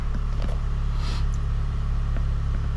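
A 2020 Hyundai Veloster base 2.0 engine idles with the hood open after a spark plug change, giving a steady low hum with faint light ticks that holds at an even level.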